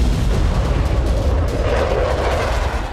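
Heavy, rumbling blasts from Israeli airstrikes on Houthi targets in Yemen roll together into a continuous loud, low roar with crackling debris noise, sustained throughout without a clear break.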